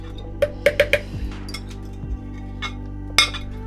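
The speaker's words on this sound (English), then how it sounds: "Gemma's whipping it away nicely" Crepe batter is whisked in a bowl, giving a few quick metallic clinks and taps against the bowl's sides, close and fairly crisp over a low steady background hum.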